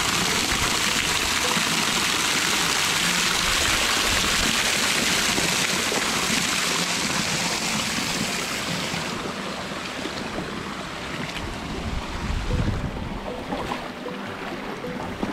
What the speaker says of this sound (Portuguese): aquela água que está descendo ali